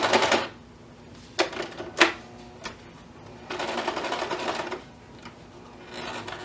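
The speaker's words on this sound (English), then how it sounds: "Just keep sewing around that circle." A sewing machine stitching around a circle on a gingerbread man treat bag, close and moderately loud, running in bursts with short pauses and a few clicks between runs, no talking.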